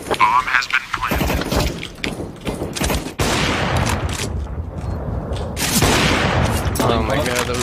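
Gunfire in the video game CS:GO, with bursts of rapid shots and sharp cracks mixed with game effects, loud and close, while players talk excitedly over the action.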